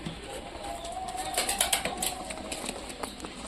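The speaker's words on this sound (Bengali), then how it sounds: "তো কত কাছে কবুতরগুলো খাচ্ছে তোমরা তো দেখতেই পাচ্ছ" Pigeons coo close by while pecking at food, soft rolling calls with a few sharper bird chirps and light flutters over a quiet outdoor background.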